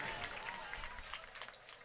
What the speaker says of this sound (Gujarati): બતાવો તાળીના ગડગડાટથી